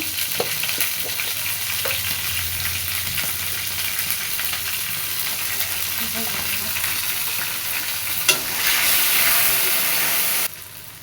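Cut potatoes frying in hot oil in a pan, a loud continuous sizzle and hiss with occasional stirring clatter and a surge of steamy crackle near the end.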